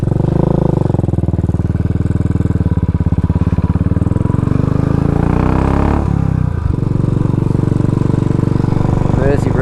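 A Royal Enfield Classic 500 single-cylinder motorcycle pulls away onto the road, its steady engine drone loud and close throughout, with a brief dip and shift near the end as it changes pace.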